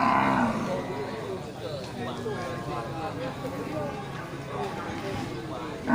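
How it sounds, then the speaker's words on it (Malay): Male Aceh bulls low at a livestock seller's stall, a deep drawn-out moo rising among the animals while people talk nearby over a busy market background. "Ini sapi-sapi Aceh ya, jantan."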